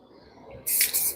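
Bright aerosol spray paint from a can fitted with a more forceful cap, a sudden loud hissing burst that starts after a faint background hum and holds steady.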